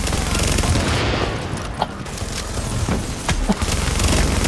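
Rapid automatic gunfire in the shooter game The Division, a loud dense stream of shots firing continuously amid booming impacts and game noise.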